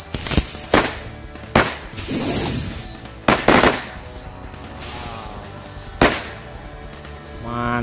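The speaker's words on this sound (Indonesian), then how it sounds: "Selanjutnya ini kita nyalakan mercon tikus Thor" Mercon tikus Thor firecrackers set off one after another, giving sharp bursts with rising whistling shrieks, several loud separate bangs and crackles spread across the moment with short pauses between them.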